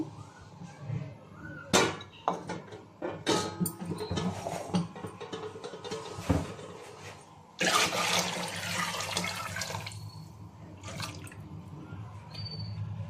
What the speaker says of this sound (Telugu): ఇప్పుడు ఈ చికెన్లో వచ్చిన వాటర్ కూడా మనము వేసుకుందాము.